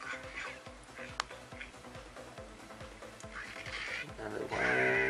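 Grunting pig oinks and squawking birds from Angry Birds come from a Ninetology Palette i5300 phone, several short comic calls that rise into a louder chirpy burst at the end.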